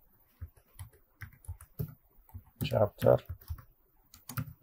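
Keys clack on a computer keyboard as ordinary text is entered into a document's header, scattered soft clicks spaced irregularly, with a short spoken word cutting in midway.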